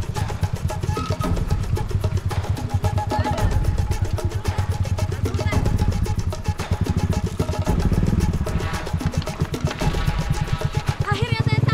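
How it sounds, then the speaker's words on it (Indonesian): A modified motorcycle ridden toward a market through rural Cianjur, Indonesia, its steady, close engine drone running continuously beneath a talking voice. "Kami harus naik motor modifikasi menuju ke pasar."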